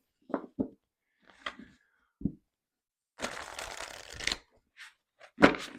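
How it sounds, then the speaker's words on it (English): A tarot card deck is handled and shuffled close up: a few scattered taps and flicks, then a sustained riffling rush lasting about a second, followed by more brief card snaps, quiet and alone. "It's no problem to shuffle it."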